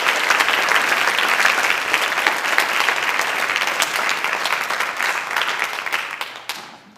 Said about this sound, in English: Can we have another round of applause for these guys?